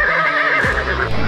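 A racing quarter horse lets out a single loud, close whinny that rises and then trails off in a shaky, quavering fall.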